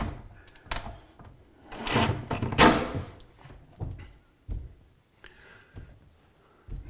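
Kitchen cabinet doors being worked and closed, giving a scattered series of knocks, thuds and rattles, a few of them louder bangs, with quiet gaps between.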